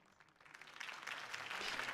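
Crowd applause after a campaign speech in a Batman video game swells from faint scattered clapping into a fuller, steady ovation over two seconds, heard alone without talk.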